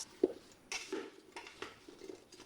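A utensil stirs apples and sugar in a pot, giving a few quiet, scattered scrapes and clinks against the metal, close but faint.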